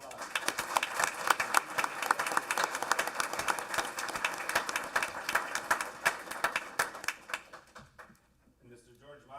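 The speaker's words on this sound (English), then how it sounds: "We give her a big round of applause." A crowd at a board meeting applauds with dense, steady clapping for several seconds before it tapers off, leaving a quieter room with faint sounds.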